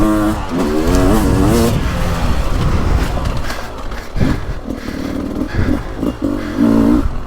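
A 2023 Beta 300 Race Edition two-stroke dirt bike ridden hard on a woods loop, loud close engine revving and shifting through throttle bursts, continuous and dominant throughout.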